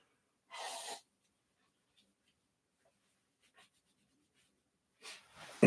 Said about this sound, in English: Let me just blow my nose here.